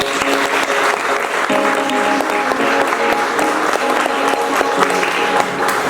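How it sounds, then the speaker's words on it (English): An audience at an Indonesian Embassy diplomatic reception in Bucharest gives a steady, dense round of applause for the embassy staff, with a faint musical tone running underneath. "please a round of applause for them to work so hard."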